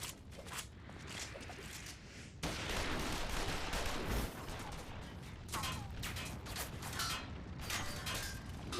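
Soldiers fire rifles in a Final Fantasy XIV cutscene, a dense, continuous fusillade of near gunfire with mechanical clatter running steadily throughout, with no speech over it.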